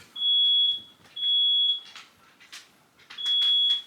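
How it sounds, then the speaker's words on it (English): A home smoke alarm sounds indoors, three loud, piercing electronic beeps in a steady pattern, each about half a second long, with faint household clatter between them. "My fire alarm's going off."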